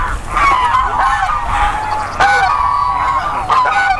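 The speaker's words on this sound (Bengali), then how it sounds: "সব রাজহাঁস" Geese at a goose farm honk repeatedly in a loud, overlapping flock chorus, with harsh nasal calls rising and falling continuously throughout.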